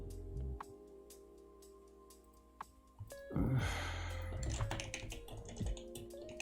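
Computer keyboard typing, a few isolated key taps early on, then a denser, louder burst of rapid keystrokes in the second half, close and clear with no talk.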